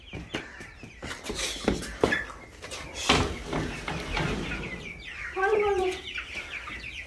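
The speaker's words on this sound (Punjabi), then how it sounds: "ਚੂਚਿਆਂ ਨੂੰ ਕਹਿੰਦਾ ਦਾਣੇ ਮੈਂ ਪਾਉਣੇ ਆ" Chicks cluck close by while grain is scattered for them, short calls mixed with rustling and handling knocks, and a voice talks in the background.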